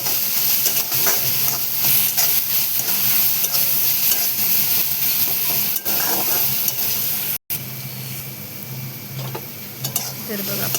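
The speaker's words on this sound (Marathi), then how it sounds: "मिरची टाकल्याच्यानंतर पुन्हा एकदा मस्त असे परतून घेणार आहे आपण." Onions and green chillies sautéing in a pan make a loud, continuous sizzle with repeated stirring scrapes and hissing steam, broken by one very brief dropout near the end.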